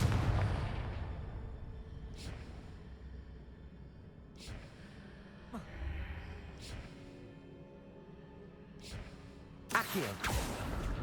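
Several sharp magical fire-spell blasts from the Confringo spell in Hogwarts Legacy, spaced bursts with fading tails over a low rumble, ending in a louder double crack near the end.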